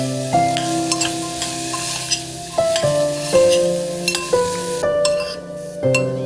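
Asparagus is stirred into a spice mixture in a pan, with a steady sizzle under repeated scraping strokes of a spoon against metal. Each stroke is close and clear, and a tonal ring sounds throughout.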